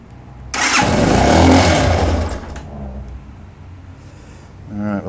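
Chinese 250 cc dual sport motorcycle with a Mikuni VM26 clone carburetor starting with a sudden loud burst, running roughly for about two seconds, then settling to a quieter idle, with someone talking near the end.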